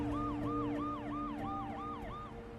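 An ambulance siren wails close and loud in a rapid, repeating rising and falling pattern over road traffic rumble, sounding alone with no voices.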